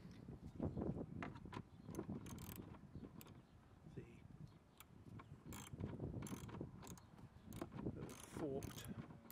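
Ratchet tightening a headlight fixing bolt on a 2006 Ford Galaxy Mk2, with faint repeated clicking and creaking mechanical strokes, quiet and close, mixed with low rustling.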